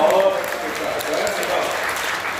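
Steady applause from a crowd fills the space, with a voice speaking over it near the start.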